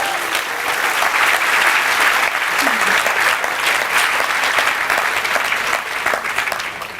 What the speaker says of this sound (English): Please give a warm round of applause for your host, Ganesh Taylor.